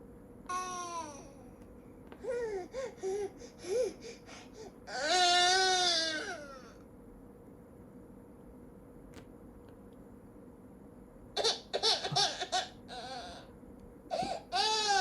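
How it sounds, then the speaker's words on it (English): An infant cries and whimpers in intermittent bursts separated by quiet pauses, fairly close, with faint background hum between outbursts. "Okay, so that's the baby. He is still crying."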